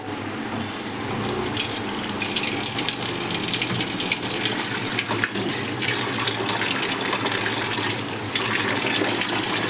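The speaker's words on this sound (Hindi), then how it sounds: "अभी इसमें पानी डालेंगे।" Water pours steadily into a cooking pot while kadhi is being made at home, a continuous close gushing flow like a running tap that lasts the whole stretch without a pause, with no one talking over it.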